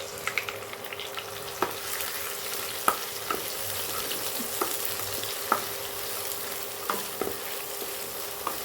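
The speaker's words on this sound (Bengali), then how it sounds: "তো আমি এখানে পেঁয়াজ ভাজতে দিয়ে দিয়েছি।" Chopped onions fry in a pan with a steady hiss, while a spatula scrapes and taps the metal every second or so. The stirring clicks come through clearly above the sizzle, and no one speaks.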